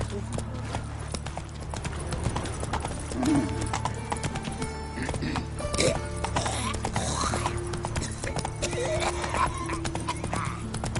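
Horse trotting in The Witcher 3 on PS5, steady clip-clop hooves with a whinny, under continuous game music and ambience while someone talks over it.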